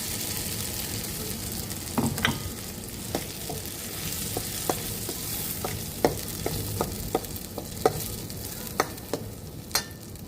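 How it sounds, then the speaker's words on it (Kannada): Ground saagu masala paste is stirred in a hot pan, with a continuous sizzle and frying hiss broken by a dozen or so sharp spatula scrapes and clicks at an uneven rhythm. "ರುಬ್ಬಿಟ್ಕೊಂಡಿದ್ನಲ್ಲ ಸಾಗುಗೆ ಹಾಕುವಂಥ ಪದಾರ್ಥಗಳು, ಅದನ್ನು ಈಗ ಮಿಕ್ಸ್ ಮಾಡ್ತಾಯಿದ್ದೀನಿ"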